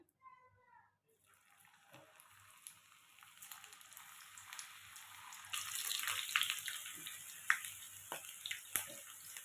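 Sliced ladyfinger (okra) drops into hot oil for chips, a faint sizzle that builds into a louder, crackling fry with occasional pops, while voices talk quietly nearby.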